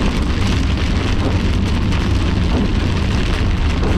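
Storm weather during a severe squall line, with sideways-driven rain and snow, comes through as a loud, dense, unbroken rush of wind and pelting precipitation with no voices.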